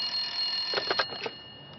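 A telephone rings with a few bright, rapid electronic trills in a quiet room, the bursts clustered near the middle before stopping.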